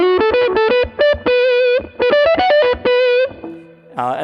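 PRS SE Santana Singlecut Trem electric guitar with the tone knob rolled back, giving a warm, creamy overdriven lead line of sustained notes and quick runs, close and loud, with no talking.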